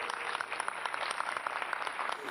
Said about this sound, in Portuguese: Palmas para ele, nossa homenagem,